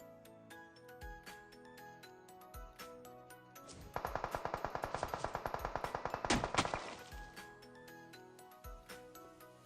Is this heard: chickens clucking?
no